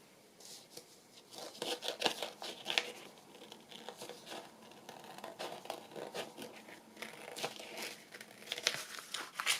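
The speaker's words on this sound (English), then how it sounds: "Right, let's trim around it. I think I'm going to use these scissors." Scissors snip and trim paper for an envelope, giving a run of crisp, irregular cuts and crinkles at close range with no talking.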